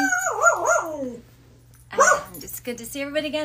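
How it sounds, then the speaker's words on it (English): A pet dog gives wavering, howling yelps at home, loud and close, followed by a voice talking over more light yips. "That's my dog"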